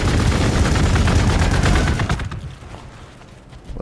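Rapid Space Marine gunfire in the Warhammer 40k Gladius: Relics of War strategy game, a dense loud burst of shots that cuts off after about two seconds and leaves a quieter fading tail.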